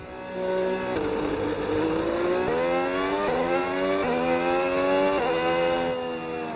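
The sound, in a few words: Red Bull RB22 F1 car engine in video game F1 26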